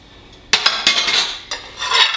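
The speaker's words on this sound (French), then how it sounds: "Des petites assiettes, ils sont sales, hein? Je vais tout laver maintenant." Small dirty plates clink and clatter as they are handled near the sink, a few sharp ceramic knocks followed by ringing scrapes and bumps in quick succession.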